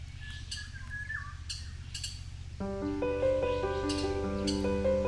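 Small birds chirp and call in a mountain village in Jinan beneath Maisan, with brief high tweets over a steady low rumble, then sustained tonal notes join in.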